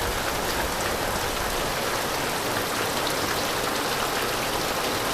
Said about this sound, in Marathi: पाऊस पाऊस काय थांबायचं नाव घेत नाही